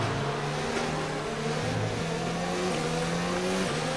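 Worn Formula 1 car engine in F1 2019 at the Japan Grand Prix, a loud continuous race-engine whine rising in pitch and stepping down through gear changes, heard alone without talk.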